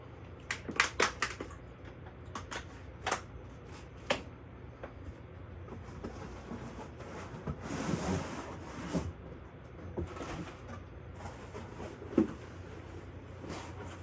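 Cardboard box holding a Dewalt tool kit being opened, with a run of sharp tearing and ripping bursts and scraping of flaps, close and fairly loud, with no talking.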